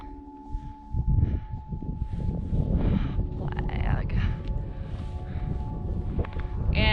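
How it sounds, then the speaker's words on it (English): Gusty wind buffets the microphone in low rumbling bursts on a mountain peak near Charleston and Griffith Peak, with a person talking over it. "it gets so freaking windy up here"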